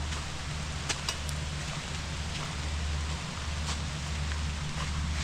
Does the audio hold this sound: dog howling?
no